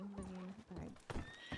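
A horse whinnies loudly and close, with a rising and falling neigh, while hooves clip-clop underneath and a voice speaks briefly.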